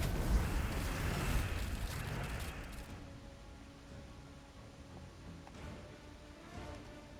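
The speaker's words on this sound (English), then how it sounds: "They're only going to explode 2 random gems" Gem explosions in the puzzle game Gems of War, a loud rumbling burst that fades into a quieter tail with a few smaller pops.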